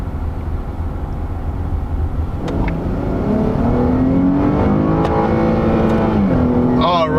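A 2018 Dodge Charger SXT rolling along the road, heard from inside the cabin as a loud, steady engine drone with a rising pitch as it accelerates and shifts gears, over road rumble.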